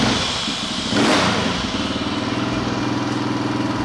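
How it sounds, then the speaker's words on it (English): A Yamaha XT500 scrambler's single-cylinder engine fires with a brief rising burst, then settles into a steady, even idle, loud and close with no talking. "I'm going to take this bike out for a quick test ride, guys."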